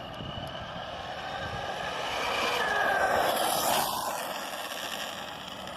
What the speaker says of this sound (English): you hear that front diff? Ugh, sounds nasty